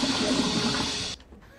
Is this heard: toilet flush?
yes